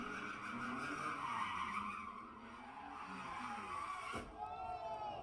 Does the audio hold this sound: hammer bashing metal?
no